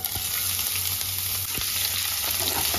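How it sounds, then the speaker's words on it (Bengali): One large chopped onion frying in white oil in a wok, a dense continuous sizzle with soft stirring scrapes, close and steady for a few seconds without speech. "পেঁয়াজটা দিয়ে দিলাম।"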